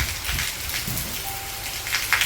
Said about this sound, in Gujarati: બહુ નથી વરતો થોડો થોડો વરસે